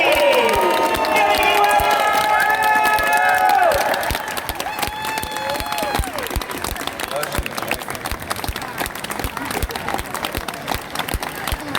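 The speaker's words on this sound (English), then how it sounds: "now, thunderous applause for the coolest man in the galaxy" Convention crowd at a comic con applauding and cheering for actor Billy Dee Williams, a loud burst of clapping and shouts over a ringing tonal sound that fades after a few seconds, leaving sustained scattered clapping.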